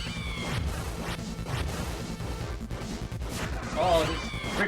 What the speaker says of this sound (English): Oh, these creepy cats.